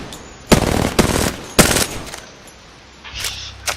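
A submachine gun in Apex Legends fires its small magazine in two rapid, loud bursts, each a fast chatter of shots, followed by a fainter mechanical clack of handling near the end.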